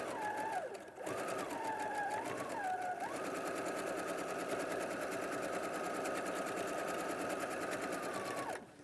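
A domestic sewing machine runs a straight seam at normal stitch length on woven fabric, a steady close rapid whirring that starts after a few brief bursts and carries on evenly for several seconds before stopping.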